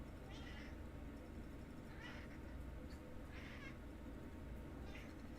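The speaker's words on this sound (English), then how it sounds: "He's walked in here meowing with her toy in her mouth." Several short meows from a cat, moderately faint, repeating at uneven intervals over a steady background hiss.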